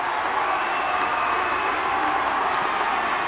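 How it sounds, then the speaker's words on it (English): A crowd at a girls' high school basketball game keeps up a steady wash of cheering and clapping, loud and continuous, with no distinct voices on top. "The Braintree crowd trying to get their team into it"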